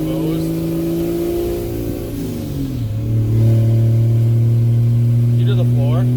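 A 4th gen Cummins diesel pickup fitted with a 2nd gen turbo runs under load from inside the cab, a steady low engine drone that dips briefly, then climbs and grows louder as boost builds, with a faint high whistle near the end.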